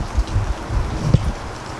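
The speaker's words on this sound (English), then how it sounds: "It's raining." Soft rain falls outdoors in a continuous hiss with scattered drops pattering on surfaces nearby and one brief louder tap.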